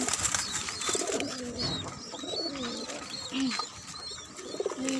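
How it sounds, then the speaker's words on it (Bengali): Pigeons coo in low, throaty rolling phrases, repeating steadily, while small birds chirp faintly in the background in a rooftop garden. "কবুতর"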